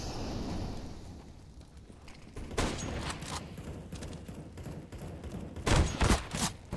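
Gunfire in the video game Counter-Strike: Global Offensive, quiet and somewhat distant, with spaced sharp shots and short bursts over a steady background hum, the loudest cracks coming near the end, no voices.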